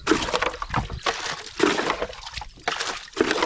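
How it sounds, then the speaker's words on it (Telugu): Rainwater is bailed out of a boat on the Krishna river, with repeated sloshing scoops and splashes of water being tossed out in an uneven rhythm, close by and without talk. "ఈరోజు అయితే వర్షపు నీళ్ళు పారబోతున్నాం"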